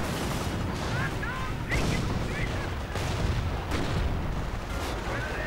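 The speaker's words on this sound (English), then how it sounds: "There we go, another flak opening up." Flak gun opening fire in a World War II real-time strategy game, repeated booming shots and crackling gunfire amid battle noise, with a commentator talking over it.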